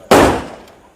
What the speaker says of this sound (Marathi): कसले फटाके वाजतात पण